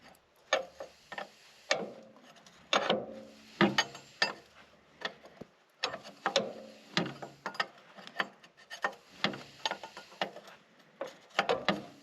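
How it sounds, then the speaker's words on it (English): Wrench tightening a threaded fitting into a car transmission before fitting a new hose, giving a string of close, sharp metallic clicks and scraping turns in irregular bursts, no talk. "make sure I tighten down the fitting that goes into the transmission before I go and put the new hose on"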